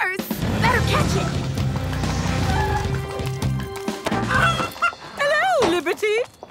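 A cartoon purse chicken squawks in a run of excited, rising honking cries, loud and close, after a stretch of busy music and cartoon sound effects.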